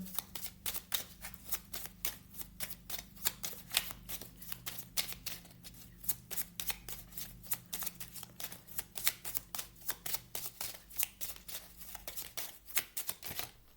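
A deck of Mystic Woods oracle cards being shuffled up close, with steady rapid riffling clicks and flicks continuing throughout, with no talking.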